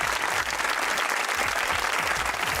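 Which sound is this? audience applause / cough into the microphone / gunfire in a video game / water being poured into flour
audience applause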